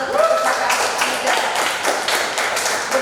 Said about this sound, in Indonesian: Jadi tepuk tangan kita berikan untuk Perpustakaan Ukrida.